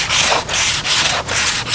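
A handheld sanding block works 80-grit paper over the airfoil of an RC airliner model of an Emirates 777-9X, making four or five rhythmic rasping back-and-forth strokes, close and loud with no talk.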